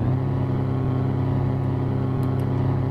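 A steady, droning Ford 2428 truck engine with an aftermarket exhaust in Euro Truck Simulator 2, a low rumbling tone, loud and continuous throughout with no talking.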